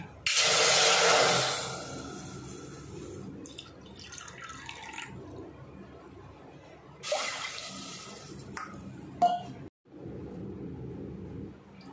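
Water poured from a cup into a kitchen mixer jar while preparing raw mango mint panha, a loud splashing pour at the start, then quieter handling with a few short clinks and knocks.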